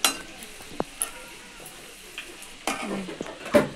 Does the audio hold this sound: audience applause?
no